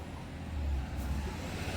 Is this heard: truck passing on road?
yes